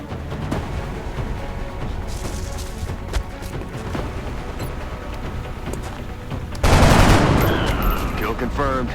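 Sporadic gunfire pops in the video game XCOM Enemy Unknown over a steady background, then a much louder blast of shots erupts near the end and lingers.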